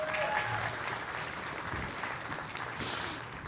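An audience at a Women's Hall of Fame ceremony applauds steadily, dense clapping that fills the hall, with a brief surge near the end.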